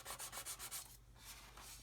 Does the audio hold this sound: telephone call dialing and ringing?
no